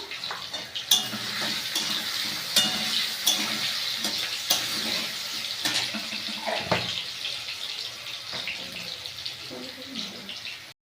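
Steady frying sizzle of potatoes with a little turmeric in a pan, with scattered clinks and scraping from stirring, continuous at moderate level, with no voice.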